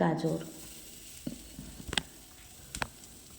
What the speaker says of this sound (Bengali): গাজরটা ভালোভাবে দিয়ে দিচ্ছি কড়াইয়ের মধ্যে